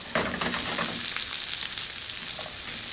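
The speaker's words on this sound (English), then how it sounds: "This process of caramelizing the vegetables will take approximately 10 minutes" Vegetables caramelizing in a pan on a natural gas cooktop give off a steady, close sizzle and hiss, with a few brief clinks and scrapes of stirring.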